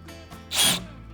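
A power driver briefly whirs as an eye screw goes into a cabinet, one short, close burst of motor whine that rises and fades within a moment.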